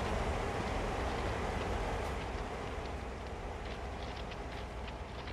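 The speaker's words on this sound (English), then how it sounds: "There's our train" Train in Train Sim World, a steady broadband rumble of wheels and rolling stock running continuously without a break, fairly close and unvarying throughout.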